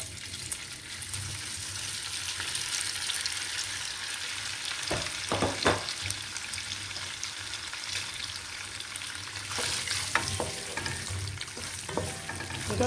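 Worcester sauce hitting hot oil in a cooking pot, a continuous hiss and sizzle with a few sharp clinks of a utensil on the pot midway and near the end, with no talking.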